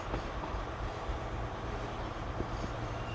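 A three-car passenger train, the Portsmouth Harbour service from Cardiff Central, pulls out of a station with a continuous low rumble and occasional wheel clatter, fairly close.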